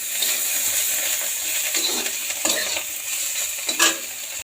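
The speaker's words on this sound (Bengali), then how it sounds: "এদিকে আমি উচ্ছেগুলো ভাজছি।" Sliced bitter gourd fries in hot oil in a pan, a continuous bright sizzle with occasional stirring scrapes and crackles, close and steady, with no one talking.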